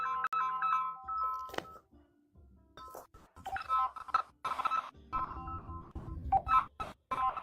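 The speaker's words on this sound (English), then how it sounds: "Phone call, alone." Telephone dialing tones from an incoming phone call: a run of clear electronic beeps in uneven bursts with short gaps, with faint clinking mixed in.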